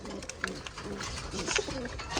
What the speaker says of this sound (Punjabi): ਜਮਾ ਕਬੂਤਰ ਵੀ ਉੱਡ ਕੇ ਆ ਗਏ